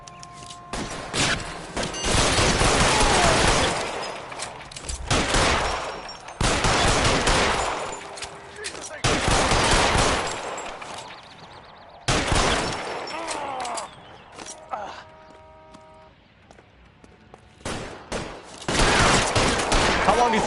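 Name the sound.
gunfire from the video game L.A. Noire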